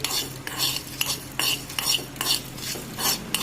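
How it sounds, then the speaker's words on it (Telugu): Cumin and coriander seeds are dry-roasted in a pan for chicken dum biryani, a spoon stirring and scraping in repeated rhythmic strokes with a faint rattle of seeds, close and alone. "కొంచెము జీలకర్ర, 2 స్పూన్లు ధనియాలు వేసుకొని దోరగా బాగా వాసన వచ్చేంత వరకు వేయించుకోవాలి"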